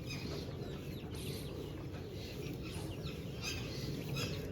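Faint clucking and peeping of chicks, scattered soft calls over a low background rumble.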